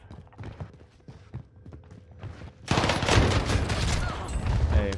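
Rapid gunfire rattles in Warzone on Rebirth Island, a scatter of sharp distant shots, then a sudden loud dense burst of close firing and impacts that fills the last half.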